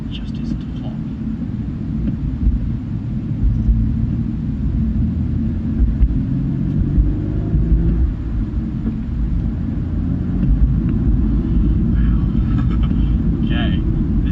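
A 2017 Audi A5 Sport driven hard at speed, with a steady, loud low road and engine rumble and wind buffeting throughout, building slightly as it goes.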